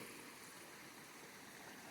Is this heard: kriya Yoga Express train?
no